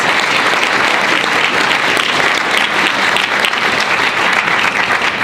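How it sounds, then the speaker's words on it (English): Graduation crowd applauds the graduates with loud, continuous clapping from many hands, an even, full wash of sound lasting about five seconds. "applause"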